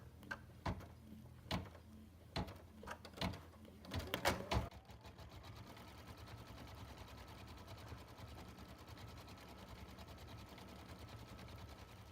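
Embroidery machine stitching out a fill section on fabric for a fall table runner, starting with a few sharp clacks and then settling into a steady, fast mechanical hum of needle strokes that carries on alone throughout.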